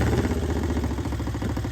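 A Norvin motorcycle, a Norton frame carrying a Vincent engine, runs steadily nearby with a deep, even pulsing thud and mechanical clatter, sounding alone without talk.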